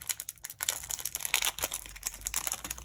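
Foil Pokémon booster pack wrapper crinkled and crackled at close range while being worked open, a continuous dense rustle with sharper crackles throughout and no talk.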